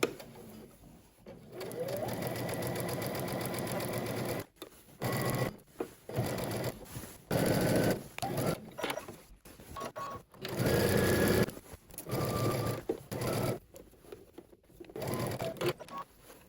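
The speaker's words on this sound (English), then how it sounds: "now we're going to stitch across the bottom, leaving this opening again, right?" A sewing machine stitches across the bottom of a jacket with a 1/2 inch seam allowance, buzzing in steady runs that stop and restart several times, close and mechanical, with brief pauses between bursts.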